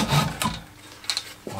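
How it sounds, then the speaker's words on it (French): A hand rasp scrapes across a wooden part for a handmade frame saw, giving a few separate rough strokes with short pauses between them, close and fairly loud, with no voices. "on va le découper à la plane et à la râpe"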